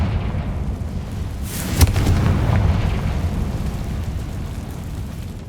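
A Confringo fire spell cast in Hogwarts Legacy bursts with a sudden boom and crackle, then a rumbling, rushing roar that slowly fades, loud and full.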